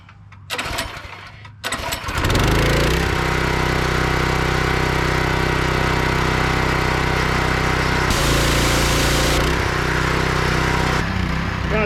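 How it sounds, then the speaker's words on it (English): A pressure washer starts after a few rough sputters, then runs at a loud, steady engine drone for about ten seconds, with brief dips in pitch where the trigger seems to be released and squeezed again. "Always prime your pressure washer before you start it."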